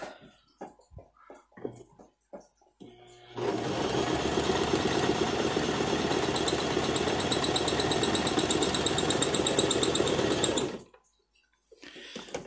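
A sewing machine runs steadily for about seven seconds, a loud even mechanical whir with rapid needle chatter, framed by quieter clicks and handling noises before and after.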